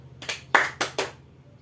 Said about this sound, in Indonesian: Tepuk siang, pagi, malam.